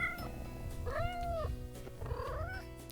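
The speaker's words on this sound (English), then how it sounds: "If you can purr or meow, that'd be..." A pair of kittens meow indoors, giving several short rising-and-falling mews in quick succession, close and clear over a low background hum.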